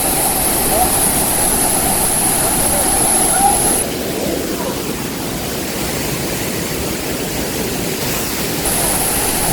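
Water pours steadily at Ara Waterfall in Incheon on a hot summer day, a dense, continuous roar heard close up and fairly loud, dipping slightly partway through, with no talking.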